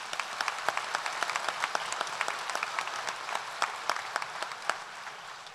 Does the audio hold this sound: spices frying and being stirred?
no